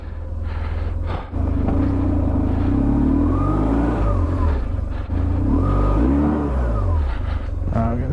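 A BMW R1150GS Adventure motorcycle engine revs hard and holds high while the clutch slips, a loud close rumble with rising and falling pitch sweeps, a brief dip near the start, and voices talking over it.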